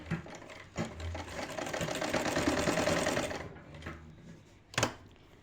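A sewing machine stitches a shirt seam in one continuous run of about two and a half seconds, with soft handling clicks and taps before and after it, quiet and close.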